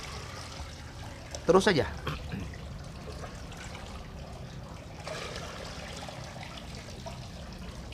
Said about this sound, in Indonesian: Ambil airnya, masukkan ke dalam sini.